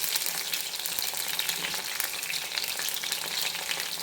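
Squid kabab, Goa style, fries in mustard oil over a medium flame, giving a steady, close, unbroken sizzle that holds alone for the whole stretch.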